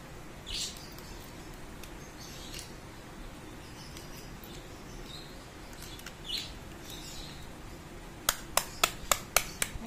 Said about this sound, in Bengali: সাঁড়াশি দিয়ে মেরে মেরেই তো কাটছি, হ্যাঁ সাঁড়াশি দিয়েই তো কাটা হয়ে যাচ্ছে।